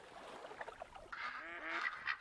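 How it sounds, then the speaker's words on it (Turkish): Ducks in theHunter Call of the Wild honk and quack in a busy cluster, several calls overlapping at moderate distance over a soft background hiss. "Evet dostlar bayağı bir ördek geldi bu sefer."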